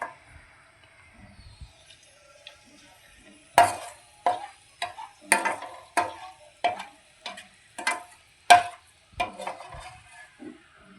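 Onions frying in a pan for ghee rice, with a spatula scraping and knocking against the pan at irregular intervals over a faint background sizzle, close by and without voices.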